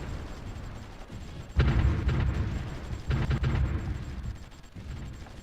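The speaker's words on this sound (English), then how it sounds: "Enemy plane, because it exploded and we didn't get a message out" An enemy plane explodes in the war strategy game Supreme Ruler Ultimate, giving a sudden loud boom followed by a few seconds of rumbling blasts, with a second burst shortly after.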